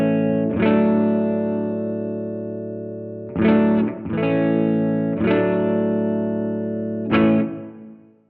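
Electric guitar played through a JAM Pedals Boomster MK2 booster with its buffer switched off, ringing out four sustained strummed chords that each decay slowly before the next strike, with no talking.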